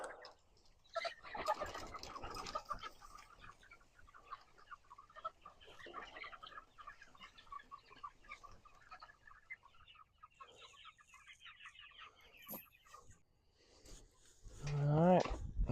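Hens cluck on and off at a moderate distance, with scattered rustling and a loud burst of noise near the end.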